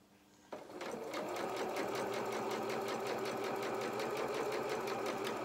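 Sewing machine stitching a trouser seam with a scant 1 cm seam allowance, starting after a brief pause then running steadily and close with a fast, even mechanical rhythm for several seconds.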